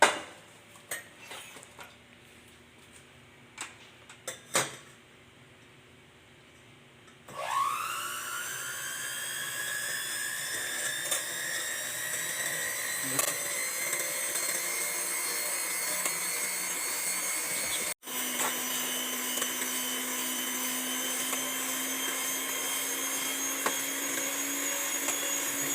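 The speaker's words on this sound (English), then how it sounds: "we are now going to the mixer and then mix it" An electric mixer whips cream in a bowl for homemade ice cream, starting after some light clatter and then whirring in a steady, high-pitched motor whine that rises and holds close and loud.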